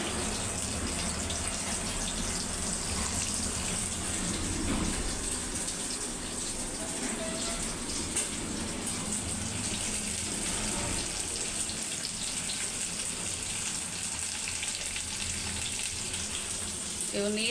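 Onion and tomato frying in a pan for a jowar roti chicken and egg masala, a steady close hiss and sizzle that runs the whole time with slight bubbling texture and no talk.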